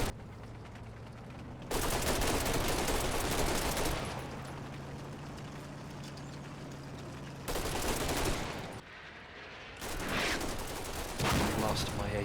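Machine gun fire from a bunker in the Combat Mission wargame comes in three loud rattling bursts, with quieter stretches of distant battle noise between them.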